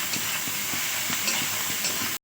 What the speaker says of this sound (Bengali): দেওয়ার পরে আমি একটু হালকা করে নাড়াচাড়া করে ভেজে নেব।